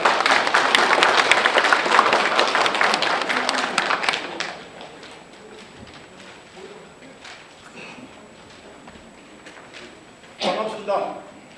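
Audience applause at a 2017 Korean safety-prevention association general meeting, dense clapping at the start that fades after a few seconds, with a voice speaking and a brief burst of clapping near the end.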